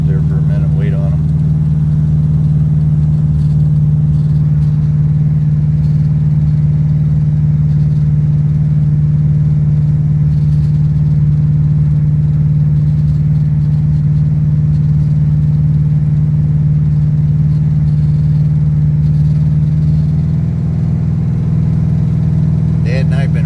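A 1969 Pontiac drag car with an 11-second time slip idles in a steady, loud, deep rumble at the drag strip gate, its low drone continuous throughout and occasionally swelling.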